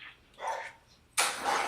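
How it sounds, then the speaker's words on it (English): A dog barks indoors, a short bark followed by a louder, sharper burst of barking, close by and alone without talk. "it's raining outside, so my dog is going crazy"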